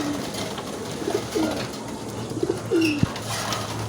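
A racing pigeon arriving at its loft gives several soft, low coos close by over steady outdoor background noise, with a faint rustle.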